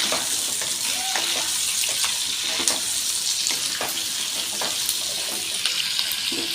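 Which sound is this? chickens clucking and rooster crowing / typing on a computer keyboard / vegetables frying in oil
vegetables frying in oil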